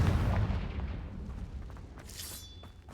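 A Confringo blasting spell detonates in a video game, a deep booming explosion that rolls and fades over a few seconds with a faint bright ringing tail near the end.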